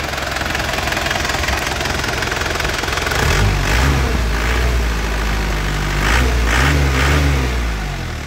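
A year-2000 car engine, freshly rebuilt, runs steadily nearby with a low rumbling hum, its tone deepening and swelling slightly around mid-way and again later, with no voices over it.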